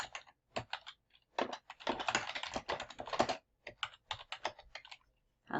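Computer keyboard typing in close, quick bursts of key clicks, pausing briefly between words and runs, with a denser stretch in the middle; no voices.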